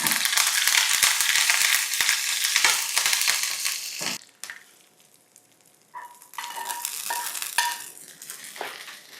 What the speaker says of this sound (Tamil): இந்த மாதிரி தாளித்து நம்ம தேங்காய் சட்னியோட சேர்த்துக்கணும்.